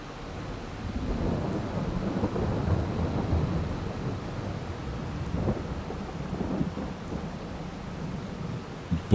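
Rain and thunder in the Farming Simulator 22 video game, low rolling rumbles of thunder over a steady patter of rain, moderately loud and continuous with no talking.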